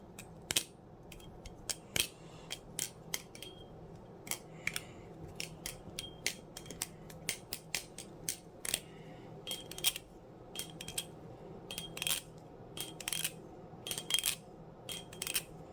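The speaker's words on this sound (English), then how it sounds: "here's the sound test for the currently very quiet WB Gigas" A WB Gigas balisong butterfly knife is flipped, its handles snapping and clicking in quick irregular bursts of sharp metallic taps, close and fairly quiet, with no talking.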